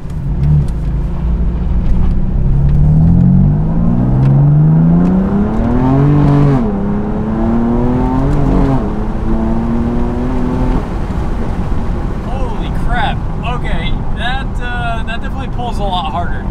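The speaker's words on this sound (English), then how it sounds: "Try to keep the window open here so you guys can hear some engine sounds" A BMW F80/F82 M3/M4 with an intake mod (charcoal filters removed, ports opened) accelerating, heard from inside the cabin with a window open: a droning engine note climbs through gears with brief drops between pulls, with faint talk.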